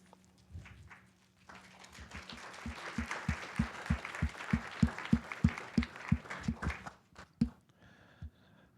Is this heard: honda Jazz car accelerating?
no